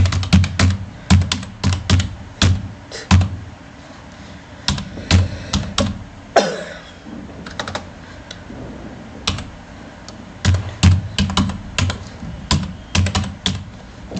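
A URL is typed on a computer keyboard in quick bursts of crisp, close key clicks, with short pauses between runs and a brief softer scraping rustle midway, no voices over it.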